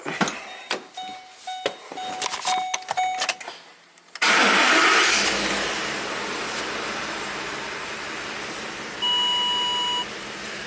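A Ford 5.4L 3V V8 with a VCT malfunction, which runs on four cylinders when hot, is heard after a few clicks and chime beeps. It cranks and fires, then settles into a loud, steady idle with another beep near the end.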